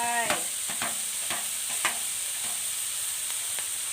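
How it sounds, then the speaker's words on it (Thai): Pork belly stir-fried with chilies and spring onion in a hot pan: steady sizzle with a spatula scraping and clacking at intervals, close and fairly loud, without talk. "ผัดไปนะคะจนพริกสุก ใส่ต้นหอมลงไป"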